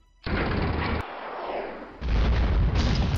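Nuclear strike in a naval battle video game set around Alaska and Anchorage, heard as a loud broadband blast that rumbles on, then a second heavy boom crashes in about two seconds later, with no talking.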